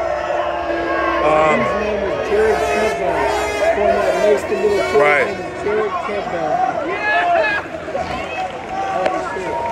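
A large protest crowd mills around outdoors, a dense mix of many voices chattering and calling out, with occasional louder shouts over a constant murmur; someone speaks close by.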